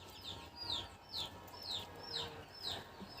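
A rooster at a farmyard poultry pen gives a run of repeated high clucks and squawks in regular bursts, faint and moderately distant, with soft background noise.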